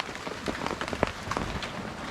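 Light, easing rain falls outdoors on a fishing shore, a soft, even patter of drops with a few sharper taps and no voices.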